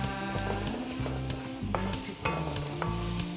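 Onions sautéing in a pot as the base for Filipino beef caldereta, a steady close sizzle under a low humming tone, with occasional light scrapes of stirring against the pot.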